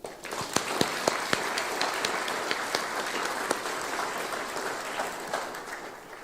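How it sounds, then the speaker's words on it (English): An indoor audience at a city's State of the City address claps steadily. The applause is dense and sustained, with a few sharper individual claps standing out and no talk over it. "Please join me in a round of applause to thank them all."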